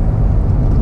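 Corvette C7 Grand Sport Collectors Edition engine under acceleration, a loud, dense low rumble filling the whole brief moment without pause.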